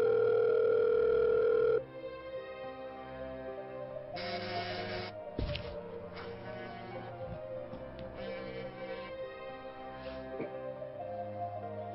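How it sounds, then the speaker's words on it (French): A telephone ringing unanswered, a steady electronic tone repeating on and on without pickup, fairly faint and alone with no voices. "C'est depuis le matin que ton téléphone sonne à vide."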